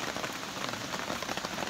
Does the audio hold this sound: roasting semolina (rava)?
no